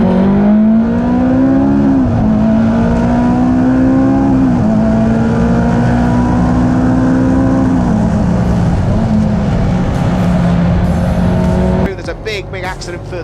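Race cars, including a Ferrari F430, accelerate off the grid at a CSCC Slicks race start at Snetterton, a loud rising engine roar with gear changes and passing cars, while commentary runs over it.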